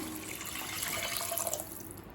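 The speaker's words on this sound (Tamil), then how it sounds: "இப்போ இது கூடவே 1/2 கப் தண்ணி சேர்த்துக்கலாம்." Water poured from a cup into a pressure cooker for tomato rice, a steady close splashing gush that tapers off toward the end.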